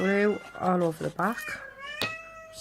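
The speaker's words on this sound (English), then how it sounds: "So sorry for my cat and her noise." A cat meows several times in quick, drawn-out cries close by, while a person talks over and between the meows.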